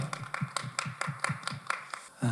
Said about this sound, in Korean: 우리 목사님 간증을 박수로 한번 듣도록 하겠습니다